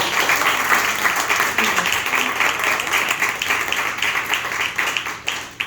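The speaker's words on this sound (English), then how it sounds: "First of all, round of applause." A close, lively round of applause from an audience at an author book event, dense clapping that holds strong for several seconds and then tapers off at the end.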